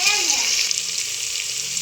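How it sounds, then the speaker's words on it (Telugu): Onions sizzle and crackle in hot oil for chicken biryani, a steady, close frying hiss with a brief stir at the start, continuous and loud with no talking. "ఆనియన్ వేసారు, ఆనియన్ బాగా ఆయిల్లో ఫ్రై కానివ్వండి."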